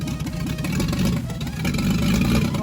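A Triumph Spitfire fitted with a swapped-in six-cylinder engine runs steadily at idle, a loud, close, continuous low rumble with a slightly uneven pulse throughout.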